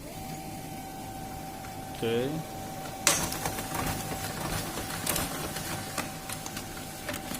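An office printer runs through a print job, its mechanism starting with a sharp clatter and then whirring and ticking in irregular bursts, with a voice speaking briefly.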